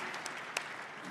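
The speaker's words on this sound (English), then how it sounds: "deserve a round of applause" Audience applause at a panel session of the ninth Future Investment Initiative in Riyadh, a steady wash of many hands clapping with a couple of sharper isolated claps standing out, moderately loud and continuous for the whole moment.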